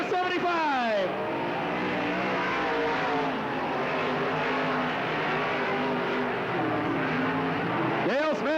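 Race cars roar around the Riverside Speedway oval in Cottage Grove during a 1991 race, engines loud and continuous with rising pitch sweeps as cars pass close by, under steady commentary.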